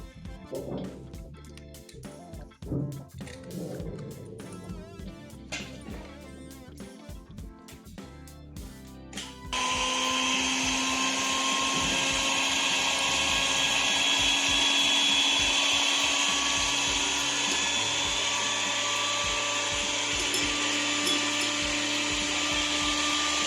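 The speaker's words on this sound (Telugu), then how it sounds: "సో ఇంకా నేను బీటర్ కనెక్ట్ చేసి బాగా బీట్ చేస్తున్నాను" An electric beater whips eggs for a sponge cake, starting with clattering handling and brief bursts before settling into a loud, continuous whirring drone for the rest.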